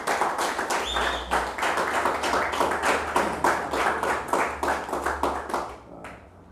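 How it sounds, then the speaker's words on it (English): Audience applause for a speaker rising at a Democratic Labour Party meeting in Barbados, many hands clapping in a quick, uneven patter near the microphone, with a low hum beneath, fading out at the end. "I'm asking you to give him a round of applause as he stands"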